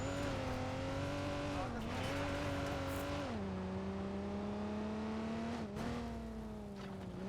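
A sports car driven across a freeway in the game Watch Dogs 2 gives a steady, loud engine drone whose pitch rises and falls with throttle changes, with occasional tire noise and no talk.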